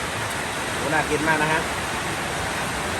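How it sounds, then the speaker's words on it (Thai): Steady heavy rain hisses throughout, a dense broadband wash, with a voice speaking briefly over it in the middle. "ตอนนี้เสียงฝนแรงมากเลยนะคะ"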